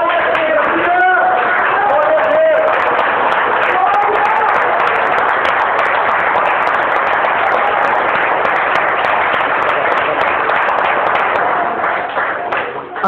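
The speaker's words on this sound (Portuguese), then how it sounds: "Aleluia, aplauda o Senhor." A church congregation applauds in praise during a worship service, a dense, continuous wash of clapping that holds steady for the whole stretch, with voices and sung or shouted tones mixed through it.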